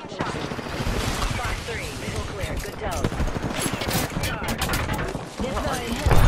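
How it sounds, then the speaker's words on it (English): Dense gunfire in the Apex Legends video game, overlapping rapid shots and bursts throughout at moderate loudness, with speech running underneath. "They spotted me. I'm taking shots."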